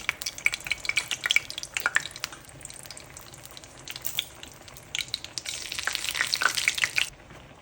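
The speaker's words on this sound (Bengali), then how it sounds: "প্রথমে কড়াইতে সরিষার তেল দিয়ে তাতে দিয়ে দিব তেজপাতা, শুকনো মরিচ, পাঁচফোড়ন" Bay leaf, dried chili and panch phoron crackle in hot mustard oil in a wok for khichuri tempering, bursts of sharp sizzling and spattering with quieter gaps, close and without talk.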